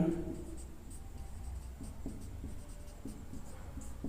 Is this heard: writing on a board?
yes